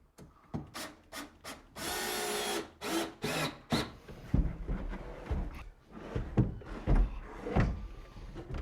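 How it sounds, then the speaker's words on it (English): A power drill drives screws into a kitchen cabinet during a renovation, loud and close: short bursts of whirring with one longer run, plus wood rubbing and knocking, no talk. "If you wouldn't mind just screwing those 2 screws in for me."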